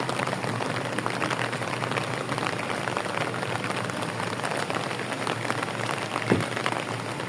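Steady rain falls outdoors, a dense, even patter and hiss that continues without a break at moderate loudness.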